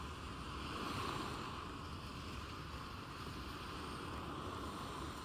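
Steady, soft wash of surf on a Puerto Galera beach in the Philippines with some wind noise, unbroken and fairly distant, with no voices.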